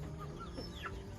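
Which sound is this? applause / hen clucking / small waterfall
hen clucking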